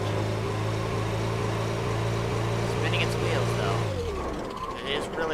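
A light RC truck climbing a steep hill holds a steady, buzzing engine whine while its tires spin, then the motor drops off and a voice talks over the fading whir near the end.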